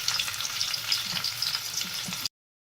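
Onions frying in a pan for potato masala rice, a steady close sizzle with occasional stirring scrapes, running alone until it cuts off abruptly near the end.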